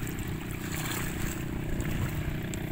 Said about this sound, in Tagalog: Ay lakas na ng alon oh.